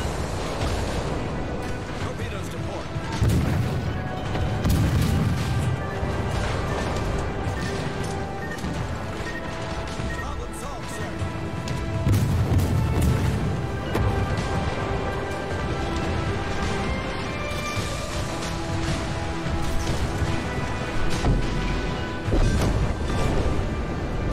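Torpedoes striking ships in a naval battle game: continuous dense crashing and rumbling explosions with swelling low booms, loud and steady throughout, with faint voice under the din.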